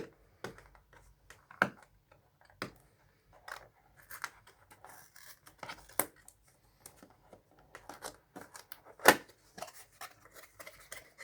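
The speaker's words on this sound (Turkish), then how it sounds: "kutumuzu açıyoruz" Packaging of a Zaza De Luxe Type 1467 corded/cordless rechargeable hair clipper being opened, with scattered crisp cardboard and plastic clicks, rustles and snaps at close range, one sharper crackle near the end, no talking.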